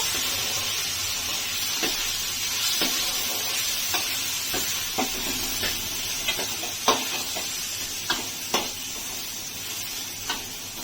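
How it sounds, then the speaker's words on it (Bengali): Washed, drained rice for pulao is stirred in a hot pan: a steady loud sizzling hiss with a spatula scraping at irregular intervals, close by and without speech. "আমি রেখেছিলাম এবার ওটাও একটু নেড়ে নেবো"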